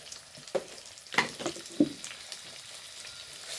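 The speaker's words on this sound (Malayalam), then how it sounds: "ഒന്ന് ഇളക്കി കൊടുക്കാം കേട്ടോ നാരങ്ങ മെല്ലെ വാടി തുടങ്ങി" Green chilli and lemon pickle frying in a pan as it is stirred, a low, quiet sizzle broken by a few distinct scrapes and knocks of the spoon against the pan, close and without speech.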